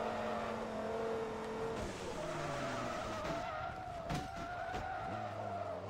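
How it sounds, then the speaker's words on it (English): A car spins out in Forza Motorsport 2 with long, loud tire squeal and skidding over a high-revving engine, its pitch sweeping as the car slides sideways and recovers. "I spun in the same spot I did on the first event"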